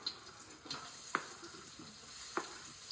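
Garlic frying in a pan on a home stove, a soft steady sizzle with a few sharp pops and light clinks of a utensil, fairly quiet and close, with no talking.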